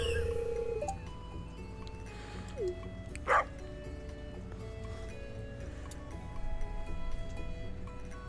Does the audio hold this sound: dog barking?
yes